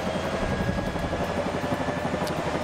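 A Bell 505 helicopter's rotor and turbine spool up toward flight RPM, a steady low rhythmic rotor thump under a continuous turbine whine.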